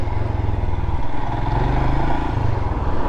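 A Royal Enfield Himalayan motorcycle under way on a test ride, its single-cylinder engine throbbing in a loud, steady low pulse close to the rider, with rumbling wind and road noise and a slight change in pitch partway through.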